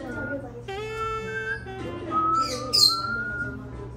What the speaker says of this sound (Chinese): 全店的鹦鹉都跟着嗨了起来